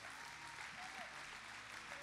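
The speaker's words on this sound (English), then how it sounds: "Give them a round of applause as they come down" Church congregation applauding steadily, a dense even wash of clapping heard at a moderate distance for a couple of seconds, with faint background tones underneath.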